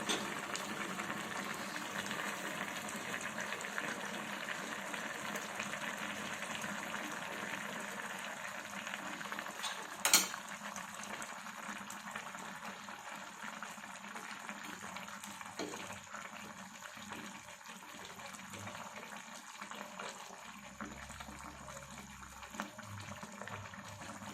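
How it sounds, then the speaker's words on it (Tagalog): Water bubbling and boiling steadily in a pot, a continuous hissing rumble with one sharp clink near the middle. "Ayan, kumukulo na siya."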